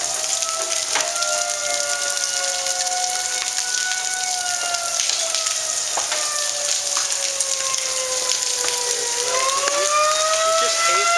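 Marble-size hail and rain fall steadily on surfaces during a Texas storm, a dense constant patter with scattered sharper impacts, while a tornado siren drones and wavers behind it throughout.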